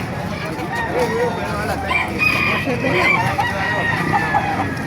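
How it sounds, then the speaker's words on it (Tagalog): A rooster crows loudly nearby at a chicken market in Baliuag, Bulacan, its long wavering call rising over a busy background of other fowl clucking and people talking. "Ayan, tumanok dito sa labas."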